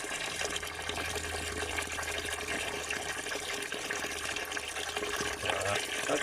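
Water from a natural spring flows and gurgles steadily outdoors, a continuous close rushing splash of moderate level with no pauses and no talk.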